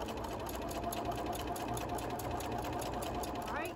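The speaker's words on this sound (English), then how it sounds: "with a matching thread, just sew this down" Sewing machine stitching down a quilt panel with matching thread, a continuous rapid mechanical whir at steady speed, close and moderately loud throughout, with no talk over it.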